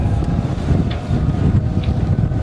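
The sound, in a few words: strong northerly wind blowing at a sailing anchorage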